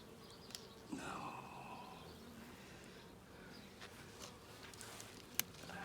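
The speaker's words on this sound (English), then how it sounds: "Go away, wasp." Bees and wasps buzz faintly around an opened package beehive during an inspection, with a louder buzz passing close near the start and small knocks and taps scattered through.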